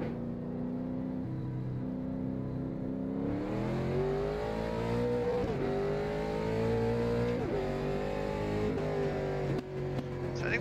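A late model race car engine in iRacing at Martinsville drones loud and steady, winding up in pitch with brief lifts and re-accelerations as gears change, close and continuous throughout.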